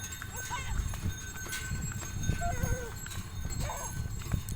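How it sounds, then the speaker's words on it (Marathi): Hooves clop in a slow, uneven rhythm as a bullock cart loaded with fodder moves along. Several people talk over the plodding steps. "हळूहळू जात आहे बैलगाडी"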